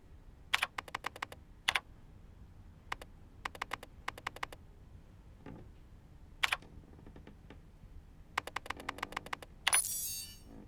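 Keys on a computer keyboard clack in short irregular bursts, crisp and close, separated by quiet gaps, ending with a brief hiss.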